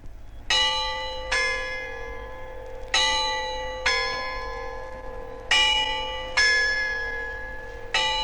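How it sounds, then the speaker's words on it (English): Bells over the Christ Church clock in Bristol struck by the two 18th-century mechanical quarter-jack figures, ringing out in a slow irregular series of about seven clear, sustained strokes with long decaying tones. "every quarter of an hour they strike the bells over the clock"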